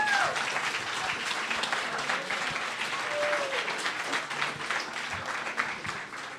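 An audience at a women-in-science evening applauds warmly and continuously, the clapping thick and sustained across the whole stretch, with a faint whistle or tonal sound and some murmuring voices mixed underneath.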